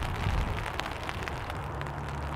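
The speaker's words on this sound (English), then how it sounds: "The sound of the rain on the umbrella." Rain patters steadily on an umbrella during a walk along a sidewalk, a soft continuous hiss with scattered faint drop taps and no voices.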